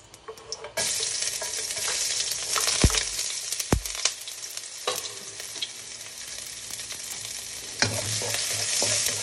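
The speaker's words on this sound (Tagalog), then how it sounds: "Saute na tayo." Chayote sautéing in a hot pan gives a loud, steady hiss and crackle, with a few sharp utensil knocks and stirring scrapes breaking through.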